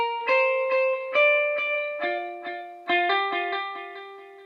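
A lead guitar line of clean single notes with hammer-ons, each pluck followed by repeating delay echoes that overlap and sustain, played alone at moderate volume.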